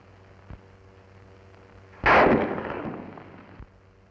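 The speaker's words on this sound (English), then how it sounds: "The first thing he hears is the sound of the bullet in flight." Rifle bullet in flight passing overhead during a soldiers' training demonstration on enemy fire, heard as a single sharp loud crack that decays over about a second and a half, with a faint click before it and another after.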